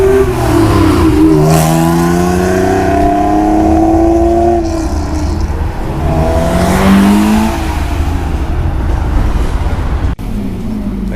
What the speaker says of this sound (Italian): su questo furgone mi hanno detto che c'è sotto il motore della GTR